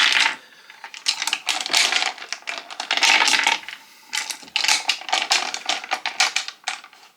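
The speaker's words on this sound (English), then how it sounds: "It does let the dice roll really, really nicely." Dice tumble down a carved wooden dice tower in quick bursts of hard clattering clicks and rattles, several rolls in succession, close and alone.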